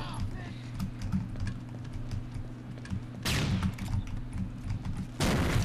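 Gunfire in the Rainbow Six Vegas 2 shooter game, rapid clattering bursts over a humming background, with two louder, sharper blasts near the end, heard close.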